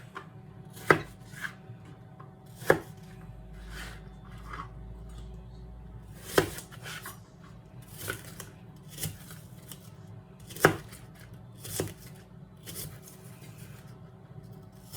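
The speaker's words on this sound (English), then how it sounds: "you can cut them again to make them even a little bit smaller" A knife chops apple pie bites made from crescent roll dough into smaller pieces, giving crisp separate thunks against a cutting board at an irregular pace, close and clear, with no talking.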